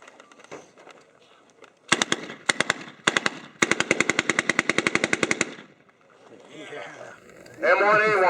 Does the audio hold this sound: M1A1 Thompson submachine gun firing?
yes